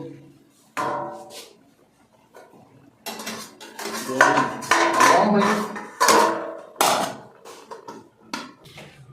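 Metal pot and lid clatter in a home kitchen while curry with chopped onion and tomato cooks: several sharp clanks and scraping knocks in an irregular burst, close and loud, with someone talking between them.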